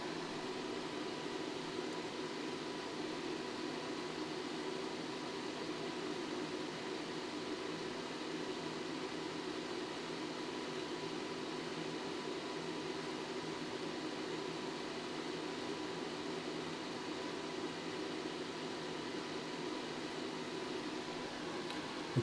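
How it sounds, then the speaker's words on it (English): A fan runs steadily at a workbench during keyboard soldering, a constant even whoosh of moving air like soft white noise, close and unchanging throughout with no talk. "How is the fan volume? Is it too much?"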